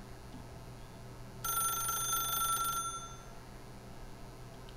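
A telephone in the video game The Stanley Parable rings in one bright electronic burst of about a second and a half over a quiet hum, followed by a brief spoken remark.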